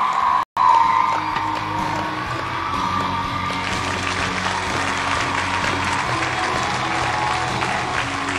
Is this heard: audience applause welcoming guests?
yes